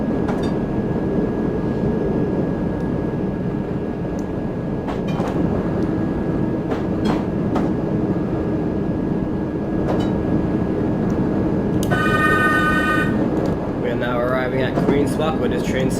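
A Bakerloo Line underground train in a train simulator game runs with a steady roar and rhythmic clacks, a high whine and chime-like tones near the end, with a voice speaking over it.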